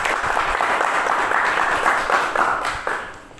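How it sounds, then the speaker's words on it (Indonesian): Applause from a group at an education seminar in Indonesia, steady dense clapping close by that fades slightly at the end. "Kita kasih aplaus untuk kita semua dulu"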